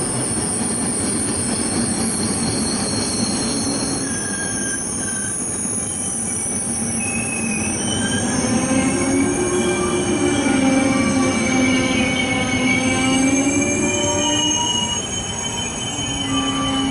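A train passes a station platform in Poland, loud and close, with wheels squealing on the rails in high sustained tones over a steady rumble that swells midway and then eases.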